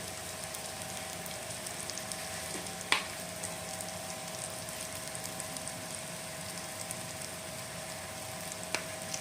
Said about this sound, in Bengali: এখন সমস্ত মশলাগুলো ভালো করে কষিয়ে নিতে হবে আমাদের।